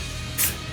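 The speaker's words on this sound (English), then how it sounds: "And then we'll give it like kind of a spray down the middle." A short burst of black spray paint hisses onto a distressed prop board for an abandoned-house set, a single quick spray lasting a fraction of a second.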